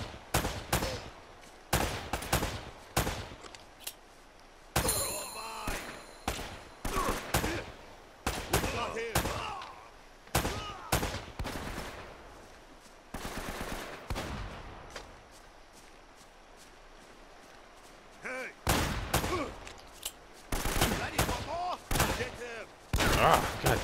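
Repeated shotgun blasts and other gunfire in the video game Uncharted: Drake's Fortune, sharp loud bursts coming in irregular clusters with brief quieter gaps, mixed with game sounds.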